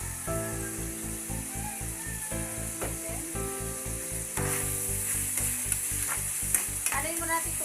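Pork frying in a pan with a continuous bright sizzle and a regular scraping stir throughout, close and loud with no talking.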